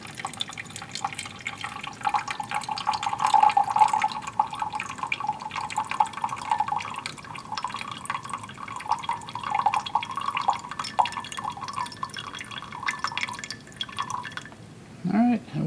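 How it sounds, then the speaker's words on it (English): Eighty grams of water poured onto twenty grams of sodium chloride to mix a solution, with a steady, close trickling stream that runs for most of the clip and ends in a short handling bump. "Now let's add our 80 grams of water to that."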